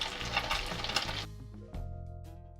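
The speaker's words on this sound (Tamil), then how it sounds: "இப்போ இது நம்ம ஒரு 2லேருந்து 3 நிமிஷம் வரைக்கும் இதை வறுத்து எடுத்துக்கலாம்" Anchovies (nethili) frying on a medium flame, a dense hiss of bubbling oil that suddenly drops away, leaving a quieter low hum with faint scrapes.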